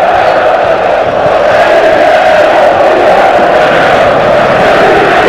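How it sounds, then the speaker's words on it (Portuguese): Stadium crowd of fans at the 1994 Brazilian championship final between Palmeiras and Corinthians at Pacaembu. A loud, steady roar of massed voices chanting and cheering fills the air without letup. "agora a torcida na arquibancada faz uma festa maravilhosa, hein?"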